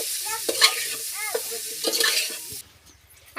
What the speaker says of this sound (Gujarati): આને હલાવી નાખવાનું